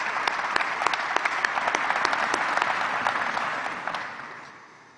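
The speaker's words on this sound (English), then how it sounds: "If we could join me in a quick round of applause and appreciation for them tonight." Audience applause at the 2023 Richmond State of the City Address reception, a dense patter of clapping with a few sharp nearby claps, fading out toward the end.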